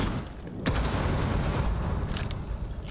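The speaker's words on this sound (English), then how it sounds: "Frag grenade goes off, not gonna find anybody" Frag grenade blast in a Rainbow Six Siege competitive match: a sharp explosive burst bursts out, then a sustained rumbling roar of debris and noise carries on at steady loudness, with no speech over it.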